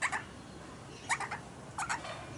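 An Australian king parrot calling close by outdoors: three short, separate bursts of shrill chattering spaced about a second apart over faint background hiss.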